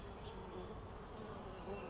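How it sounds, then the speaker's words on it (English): Honey bees fly around an open hive on a hot summer day, a soft steady buzzing hum that carries on without a break under a bed of outdoor background noise. "The bees are starting to fly around a little bit."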